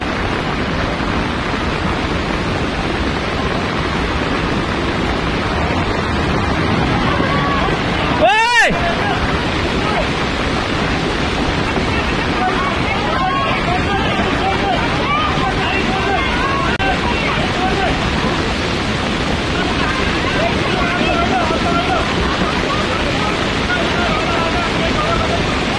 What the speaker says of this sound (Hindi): वहाँ से गधेरा आया होगा, क्योंकि ये रात भर बारिश है, गधेरा आया होगा।